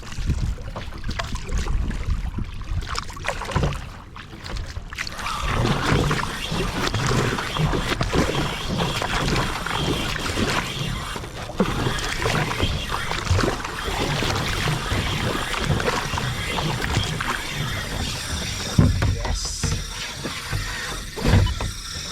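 Kayak paddling offshore on a calm morning while fishing for Spanish mackerel and tuna: steady broadband water and wind noise with soft rhythmic paddle splashes close by, continuous for the whole stretch, with no talking.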